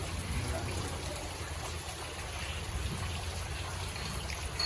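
Steady rain on a Saturday night in Sri Pendowo, with strong wind, makes a dense, even wash of hiss and patter that continues throughout at moderate loudness, with no voices.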